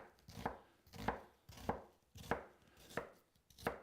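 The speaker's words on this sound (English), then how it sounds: "So that's how I do thin sliced onions in a hurry when a recipe calls for them." A knife thinly slices onions against a cutting board, hitting it in about six evenly spaced, crisp strokes. The sound is close and fairly quiet, with no talking.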